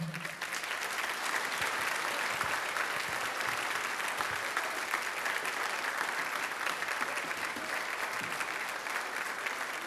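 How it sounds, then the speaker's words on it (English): A morning gathering gives a sustained round of applause for everyone who took part, a continuous, fairly distant wash of many hands clapping that holds evenly for about ten seconds. "would you give a big round of applause to everyone who's taken part this morning?"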